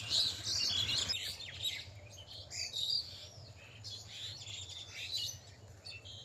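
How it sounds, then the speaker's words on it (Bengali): Birds chirp and tweet in the morning countryside of rural Bengal, bright overlapping calls moving between near and far over a quiet outdoor hush, with no talk. "দেখুন কত সুন্দর পাখিদের কিচিরমিচির ডাক।"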